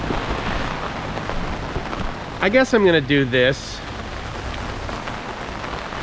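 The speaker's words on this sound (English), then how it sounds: "it's raining, but you know, it's also 90 oh, it's raining even more now" Heavy rain pours steadily on a white sand beach resort in Koh Chang, Thailand, a dense broadband hiss throughout, with a person speaking briefly over it midway.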